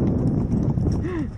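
A horse's hooves clip-clop in a dense, loud stretch of sound, close by and mixed with voices talking over them.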